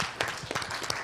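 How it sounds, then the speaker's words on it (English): An audience claps together in steady applause at a gathering, a dense patter of hand claps with a few sharper individual claps standing out. "You can applaud for that."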